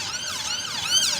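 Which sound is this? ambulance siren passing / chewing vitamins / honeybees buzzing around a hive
ambulance siren passing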